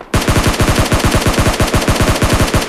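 Rapid automatic gunfire in the mobile battle royale game PUBG Mobile Lite, a loud, unbroken burst of evenly spaced shots hammering on for nearly three seconds.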